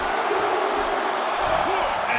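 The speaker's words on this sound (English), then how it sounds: "Listen to this crowd, count the next one in." A large arena crowd in the wrestling game WWE 2K18 roars steadily during a 30-man Royal Rumble match, a dense continuous cheer with commentary voices underneath.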